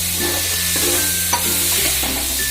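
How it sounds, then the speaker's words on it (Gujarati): Garlic chutney sizzles in a pan as water is added for bhungra bateta gravy, with a loud steady hiss and several scraping stirs of a spoon against the pan, close and continuous. "આપણે આમાં થોડુંક પાણી નાખી દઈએ તો આપણી લસણ ચટણી બળે નહીં"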